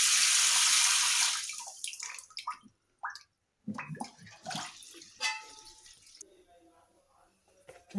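Water runs onto a dosa pan being rinsed without soap, a steady rushing splash at first that breaks into scattered drips, gurgles and clatters before fading.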